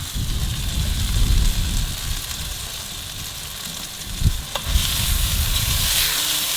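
Red wine poured into a hot pan holding tri-tip bursts into a loud, hissing sizzle that swells steadily, with a few scraping knocks of a utensil partway through and no talk.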